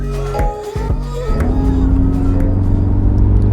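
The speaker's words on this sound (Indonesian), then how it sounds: "suara mesin, raungan mesinnya itu makin menggelegar, makin terdengar oleh telinga" A 2021 MINI Cooper S Countryman facelift engine roars loudly up close, revving and settling into a deep steady rumble.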